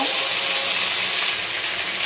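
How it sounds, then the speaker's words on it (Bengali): Rohu fish pieces fry in hot oil in a kadai, giving a loud, continuous crackling sizzle that stays steady and close throughout, with no talking. "মাছগুলো আমি উল্টে নিচ্ছি এক ফিট হয়ে গেছে আর এক ফিট উল্টে নিচ্ছি"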